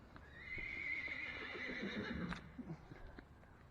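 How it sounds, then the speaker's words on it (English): A horse gives a long, loud whinny that rises and wavers over a couple of seconds, followed by a few short snorting calls, heard at a moderate distance outdoors. "horses are upset with me"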